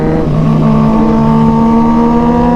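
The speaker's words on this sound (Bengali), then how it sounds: "উইলি তুলতে চেষ্টা করছে ভাই।" A motorcycle engine holds a loud, steady high-speed drone with sustained harmonic whine during a wheelie attempt on a fast road, close to the microphone and without pause.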